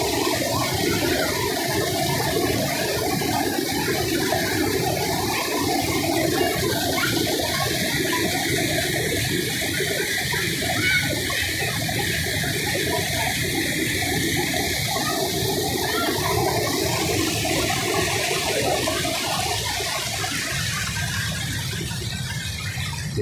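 A person wades through the swollen water of a flooded river during heavy rains, with continuous sloshing and rushing water close by and no talking.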